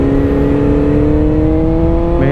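A 2022 BMW S1000R motorcycle engine under way on a country road, a loud, steady close-up drone with strong harmonic tones and a slight shift in pitch near the end, with no talking.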